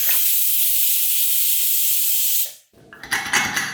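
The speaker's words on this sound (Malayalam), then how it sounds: "ഇനി നമുക്ക് പ്രഷർ കുക്കർ അടച്ച് വെച്ചിട്ട് 2 വിസിൽ വരുന്നത് വരെ വെയിറ്റ് ചെയ്യാം." A pressure cooker cooking steel cut oats biryani hisses loud, steady steam for over two seconds before cutting off abruptly. Softer rattling and sputtering follow.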